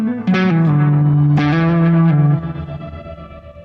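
Electric guitar run through a BOSS GT-1000 Core processor rings out in two loud sustained distorted chords, with reverb trailing off and decaying at the end.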